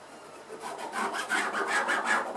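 A pencil drawn across the fabric of a waterproof tote bag, giving a steady scratchy rubbing that swells and fades over several strokes, close and dry, with no talking.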